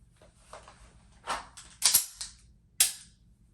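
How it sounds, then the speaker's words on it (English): A pistol's slide is racked and the handgun is fired, with sharp mechanical clacks followed by loud, crisp reports close by, spaced over a few seconds with no talking. "Rack the slide and fire."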